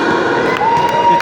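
Cheering and shouting from a crowd greet two performers at a staged contest, a short burst of lively, continuous noise with no clear clapping rhythm.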